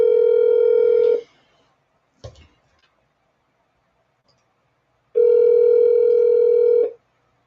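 A telephone dial tone plays steadily, breaks off, then a brief click follows before the dial tone returns for a couple of seconds, heard clearly with no talking.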